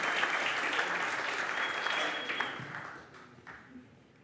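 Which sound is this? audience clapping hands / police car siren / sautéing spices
audience clapping hands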